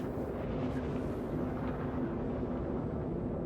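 A deep, steady rumbling drone with a faint low hum, the Khartu-al spacecraft engine in Star Citizen idling at low speed, continuous and even throughout.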